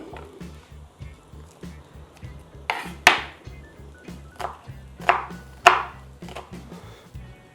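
An onion chopped with a knife on a board: a steady run of close knocks with several louder, sharper strokes, plus faint background sounds.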